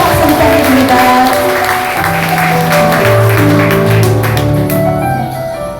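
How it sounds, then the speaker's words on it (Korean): Audience at an Incheon political meeting and reception applauds in a sustained, loud round of clapping that holds steady for several seconds and then begins to taper off. "여러분 큰 박수 부탁드립니다"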